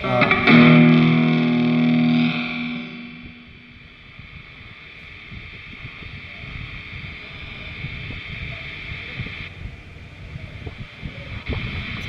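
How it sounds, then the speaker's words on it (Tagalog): Electric guitar played through a Cuvave distortion effects pedal, a loud distorted chord ringing for about two seconds and then decaying into a low, fizzy sustained hum with faint noise. "Distortion yan yung... Gumagana. Distorted yung tunog."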